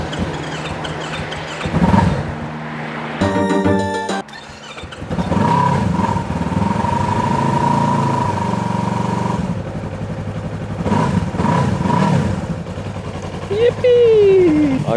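An Acura Integra fitted with a new battery cranks briefly, catches and settles into a steady idle with a few revs, loud and close throughout, while someone talks over the engine.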